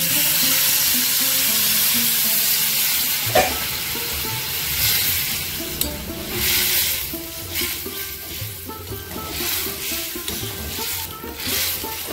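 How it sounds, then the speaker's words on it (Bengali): Water hits a hot pan of chicken meant for a bottle gourd curry, setting off a loud, steady sizzle with stirring and scraping that carries on for the whole stretch. "এবার আমি জল দিয়ে দেবো।"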